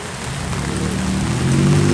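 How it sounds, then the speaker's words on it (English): Rain falling on an outdoor field during ultimate frisbee practice, a steady broadband hiss that swells slightly louder toward the end, with no voices. "It's raining right now."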